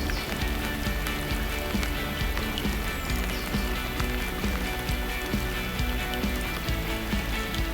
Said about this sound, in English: And sure enough, I'm soon fishing in the rain.